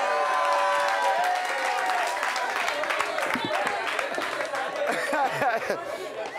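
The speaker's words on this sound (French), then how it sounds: "On applaudit." A studio audience at a French-language talk show applauds steadily, the clapping mixed with crowd chatter, a little laughter and voices talking over it throughout.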